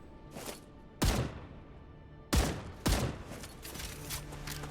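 Loud gunshots ring out in StarRupture as a full magazine is emptied, three heavy booming blasts spaced irregularly with lingering tails, plus a fainter shot at the start.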